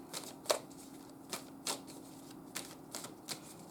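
Tarot cards are shuffled for a reading. Several quiet, crisp snapping flicks come at uneven intervals against a soft, steady background hum, with no talking.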